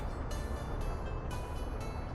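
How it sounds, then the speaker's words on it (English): A steel-carrying freight train rolls along in the Workers & Resources: Soviet Republic city-building game, a steady low rumble with faint periodic clacks of wheels passing rail joints, alone with no talk. "that's our steel train. Making its way back."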